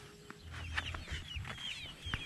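Backyard chickens cluck and chatter in short bursts at a house under construction in the Philippines, a few close, quiet calls repeating over light background noise.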